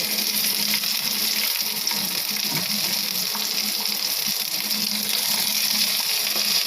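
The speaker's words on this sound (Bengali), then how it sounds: "দিয়ে দিলাম ইলিশ মাছের মাথা এগুলো কিন্তু আমি ভালো করে ভেজে নেব" Hilsa fish heads fry in hot oil with a steady, dense sizzle and crackle that holds loud and close throughout, with no voices.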